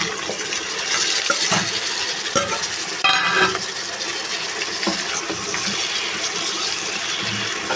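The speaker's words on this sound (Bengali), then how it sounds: "এখন দিয়ে দেব সিম আর আলু" Flat beans and potatoes go into a frying pan with garlic, onion, chillies and dried fish, raising a loud steady sizzle close by, with scrapes and a few knocks as they land and are stirred.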